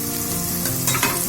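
Ginger paste sautés in oil left over from frying fish, giving a loud, continuous sizzle with scraping stir strokes near the end; no talking.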